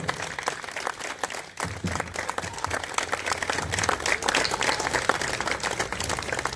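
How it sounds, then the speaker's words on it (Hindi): Applause fills an award ceremony at a Mathur community foundation-day honour event: dense, sustained clapping from a standing audience, building after a brief quieter start and continuing loudly throughout. "सभी से मेरा आग्रह है कि अपने स्थान पर खड़े होकर जोरदार तालियों से प्रोफेसर एनडी माथुर साहब का अभिनंदन करें।"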